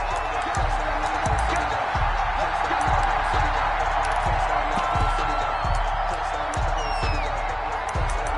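Stadium crowd noise in a Colts versus Jaguars football video game: a steady, loud roar of cheering fans with a rhythmic thumping pulse beneath it, continuous throughout.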